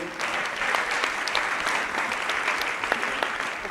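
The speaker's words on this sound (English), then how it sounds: "kindly, please give my panelists a hearty round of applause" Hearty audience applause for panelists at the Kalasha International Film & TV Market, Festival and Awards, a steady wash of many hands clapping with occasional sharper claps standing out.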